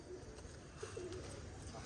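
Faint, low pigeon coos sound briefly in the middle, over a quiet background with a soft murmur.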